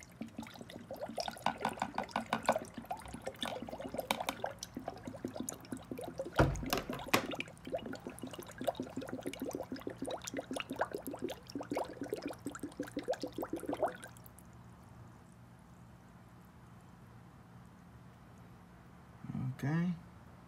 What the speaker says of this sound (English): now I'm gonna be putting some 50-50 silver coolant into the funnel